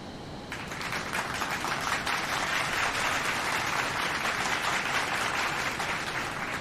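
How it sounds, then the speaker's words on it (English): A round of applause from a group, rising after a brief pause and holding dense and even to the end, with no voices over it. "Can we get a round of applause, please, for Mr. Branding Iron for his donation yesterday"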